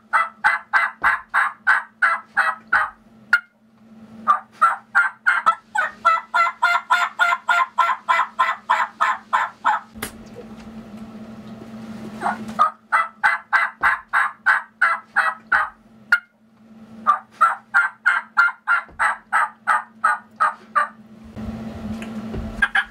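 A Mountain State reed turkey call played as a spring yelp, with loud, close bursts of rapid, evenly spaced yelps that repeat in several sequences, separated by short pauses.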